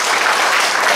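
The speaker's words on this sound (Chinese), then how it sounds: "掌声不断" Audience applause at a senior learning centre gathering in Tuku, Yunlin, welcoming visiting partners from Chiayi County: dense, steady clapping from many hands, loud and continuous throughout with no pauses.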